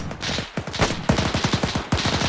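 Rapid bursts of WWII-era gunfire in ARMA 3, sharp repeated shots in quick runs with brief pauses between volleys, loud and close with no talk over them.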